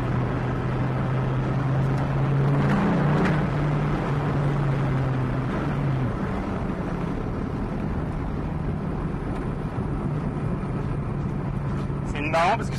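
Dodge Viper SRT-10 rolling in the intermediate gears, a steady low engine drone with a rising tone midway that settles back into a constant rumble, with a voice talking over it throughout.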